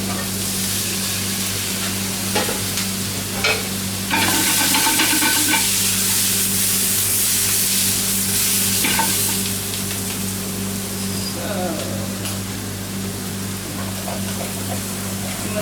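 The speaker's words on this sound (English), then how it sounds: "what you want to do is deglaze these pans to get that sugar" Roasting pans being deglazed for stock, with a steady loud sizzle of liquid hitting hot pans and scraping, stirring strokes throughout, the hiss swelling around the middle before easing off.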